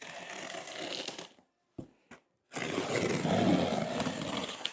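A Spyderco Paramilitary folding knife slices through the cardboard of a mystery box, rough tearing scrapes that stop for a moment of near silence with a couple of sharp clicks, then resume louder and fuller.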